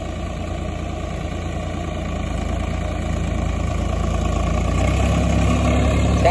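A Swaraj 744 XT tractor engine runs steadily with an 8-foot rotavator, a low, rumbling drone and machinery vibration, growing slightly louder toward the end, no voices.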